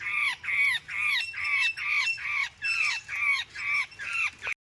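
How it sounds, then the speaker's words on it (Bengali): A bird caught and tangled in a net squawks loudly and close by, with about ten harsh, evenly spaced calls in a steady rhythm and no voices. "এই নেটের ভেতরে আটকে আছে পাখিটা।"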